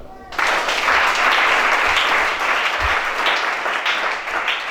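Sustained applause from a church congregation at a deliverance worship service in Gabon, many hands clapping densely and evenly at close range, with a few low thumps beneath.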